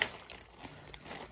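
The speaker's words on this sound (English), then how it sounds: "gonna rip it open" A mail package being ripped open by hand, with a brief crinkling and tearing of packaging material, close and moderately loud, no voices.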